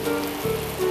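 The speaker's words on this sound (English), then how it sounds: "So out in the rain he went with his umbrella." Rain falls steadily in a 1992 children's cartoon about a little red car, a continuous hiss of drops with a faint tonal hum underneath, no speech.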